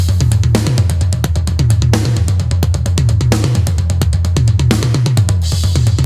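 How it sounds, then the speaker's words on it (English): Snare hits and tom fills played without cymbals, busy and fast with rolling low tom strikes and sharp snare cracks, loud and close. "we have just the hands playing the snare and toms,"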